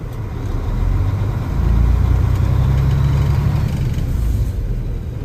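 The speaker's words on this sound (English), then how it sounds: "We're gonna rev the motors a little bit." A loud, steady 2006 Freightliner Business Class M2 112 truck engine rumbles, swelling briefly as it revs up and then settling back toward an idle.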